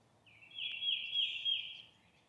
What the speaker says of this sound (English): hopefully you guys have some trees around you, to hear the birds and all that